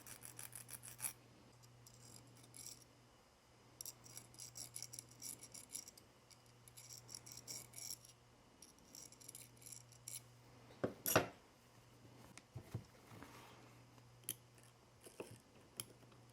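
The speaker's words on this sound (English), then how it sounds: "So I'm gonna try using this metal file on here and see if it does anything." Small metal rasping and scratching from a metal file worked against a metal spring, quiet, intermittent strokes with a steady low hum underneath and a sharper click near the end.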